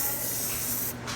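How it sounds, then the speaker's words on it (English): A steady cooking oil spray hisses continuously into a bowl for about a second, close and fairly loud, then cuts off briefly before a short final burst. "It says olive oil, but I'm just going to spray this, it's easier."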